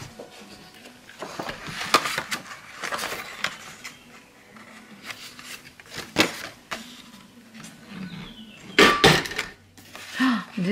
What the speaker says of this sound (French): on va faire ici une perfo-bordure étoile et là aussi.